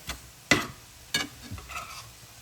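A spoon scrapes and stirs through Sloppy Joe style turkey casserole ingredients in a pan, in three or four distinct strokes with faint sizzling between them.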